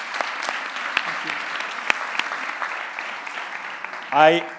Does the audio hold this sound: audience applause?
yes